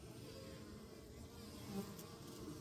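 Bees buzz around a blooming loquat tree in a garden in late autumn, a soft, steady hum of many insects that stays faint and continuous throughout.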